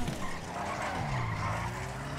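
A car skids and spins out in the GTA V video game, a loud sustained tire squeal that sweeps in pitch over engine noise for about two seconds, with no talking.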